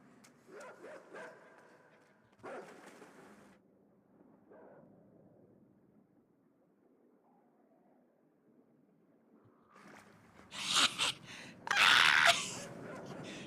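A dog barks in the dark side-scrolling video game Inside, loud bursts clustered near the end after quieter, sparse game sounds.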